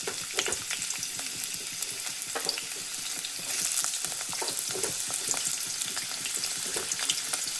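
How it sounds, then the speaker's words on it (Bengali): Potato pieces fry in hot oil in a wok for a vegetarian dish, giving a loud, dense, continuous sizzle and crackle that swells slightly midway. No one speaks. "তো এই দেখো, আমি কড়াইটা বসিয়ে কড়াইয়ে তেলও দিয়ে দিয়েছি। প্রথমে আমি সবজিগুলোকে একটু ভেজে নেব। তো সবচেয়ে আগে ভাজবো আলু।"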